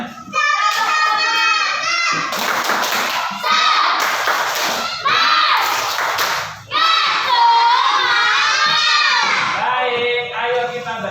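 Schoolchildren in a classroom perform a rhythmic spirit clap (tepuk semangat), loud chanted shouting voices alternating with bursts of claps and thuds in a repeating pattern, close and energetic.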